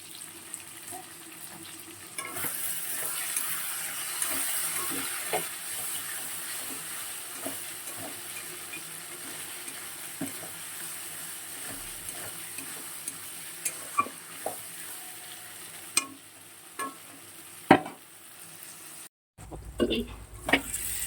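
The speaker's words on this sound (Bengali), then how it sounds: "সয়াবিনটায় অনেকক্ষণ 10 মিনিটের মতন কষিয়ে নিলাম।" Soybean chunks being sautéed in a pan for a dum-style curry, with a steady sizzle of frying and repeated scraping clicks of a spatula stirring, close and moderately loud, and a clatter near the end.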